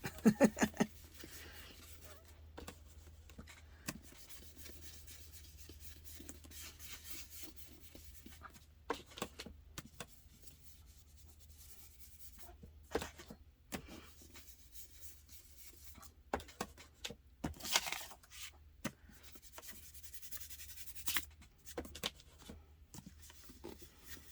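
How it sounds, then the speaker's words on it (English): A Dollar Tree makeup brush dabs and rubs distress ink onto art journal paper in an altered book, quiet scratchy swishes and taps in irregular bursts, close and soft. "I'm using a makeup brush from Dollar Tree."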